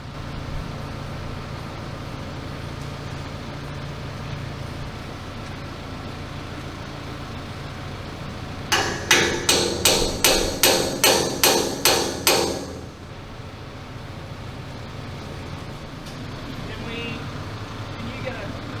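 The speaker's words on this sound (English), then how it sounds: "those sledgehammer adjustments always make me jump." A sledgehammer drives a steel wedge during restoration work on a Jagdpanther tank, landing about nine quick, sharp metallic blows in a row midway through, over steady workshop rumble and background noise.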